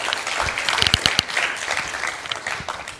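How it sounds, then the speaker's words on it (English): A transportation plan meeting audience breaks into applause, a moderate close round of clapping with a few sharp individual claps standing out, fading toward the end. "applaud the opening."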